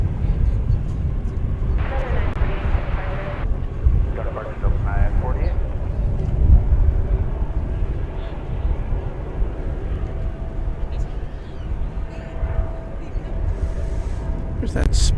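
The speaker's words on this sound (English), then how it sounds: "This is Flight 363. This is going to Los Angeles. It's an Airbus A320." A Spirit Airlines Airbus A320 jet, flight 363 to Los Angeles, roars steadily at an airport as a broad, continuous rumble. Voices talk over the engine noise throughout.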